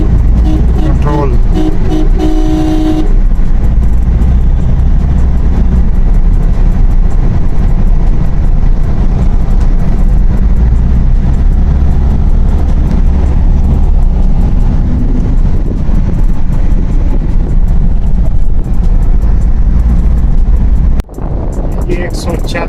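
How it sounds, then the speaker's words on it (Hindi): Car cruising on a motorway at 140 during a driving lesson, a steady loud roar of engine, tyres and wind throughout, with a brief dip near the end. "ये 140 पे इस टाइम पे हमारी गाड़ी जा रही है।"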